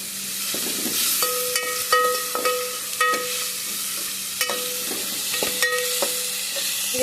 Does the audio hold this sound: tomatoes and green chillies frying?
yes